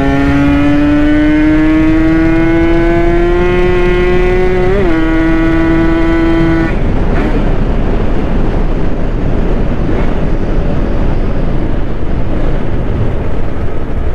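Suzuki Satria motorcycle with a large 34 mm carburetor ridden on a narrow road, its engine note climbing loudly through the revs before a shift, then buried under heavy wind rush for the rest of the ride.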